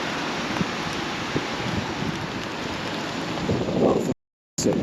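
Heavy, steady rain pours down outdoors in Brunei, a constant hissing downpour with low rumbles underneath, before a brief cutout and return.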